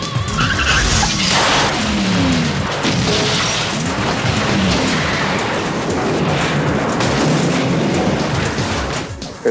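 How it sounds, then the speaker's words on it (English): A car crashes through a building wall in a film action scene: a roaring engine and squealing tires, then a heavy booming impact and rumbling debris, loud and continuous. "I put Jürgen inside a car and got him to drive through the wall of this building"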